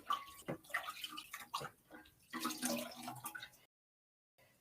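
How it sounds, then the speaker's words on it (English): Water splashed and cupped against the face to rinse off a facial scrub during a skincare routine, irregular close wet splashes and drips that stop abruptly into silence. "So then I'm coming in with the water again to remove the scrub."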